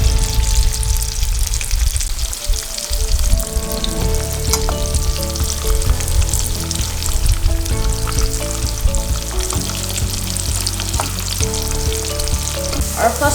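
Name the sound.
fish frying in oil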